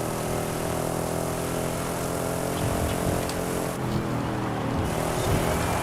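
A Ford Mustang in Forza Horizon 5 drones along at a steady loud engine hum with layered harmonic tones, holding a constant pitch throughout without pauses.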